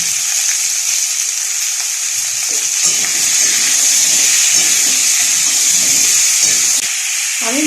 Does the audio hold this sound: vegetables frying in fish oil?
yes